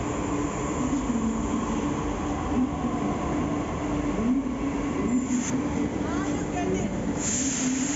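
Metro train carriage interior on an early-morning run from the Huda City Centre terminus, steady close rumble and rolling wheel noise throughout with faint squeals toward the end.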